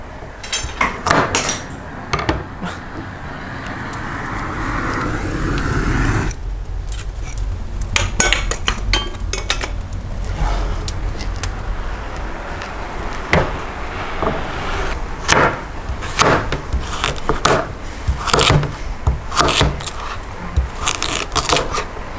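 Knife chopping carrots on a cutting board while preparing a dish for lamb ribs cooked in an Afghan kazan, with repeated sharp close taps in irregular bursts and no talk over them.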